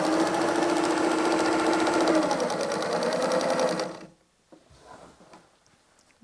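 Sewing machine quilting with a Schmetz gold topstitch needle and two top threads, running loud and steady for about four seconds, then stopping abruptly, followed by faint handling clicks.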